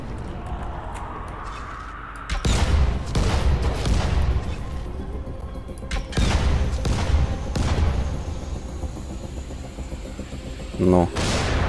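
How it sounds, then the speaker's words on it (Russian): Fireworks launching in the Dying Light video game, a series of sharp booms and crackling bursts at irregular intervals over a steady game ambience, with a quick rattling burst near the end. "Фейерверки позапускаю."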